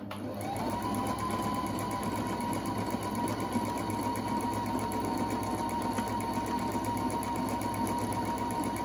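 Close and steady, a Husqvarna 230 Electronic sewing machine stitches, its motor starting up and then humming evenly with rapid rhythmic needle clatter for the whole stretch.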